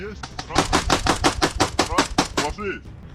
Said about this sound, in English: The soldiers are firing into the tunnel again.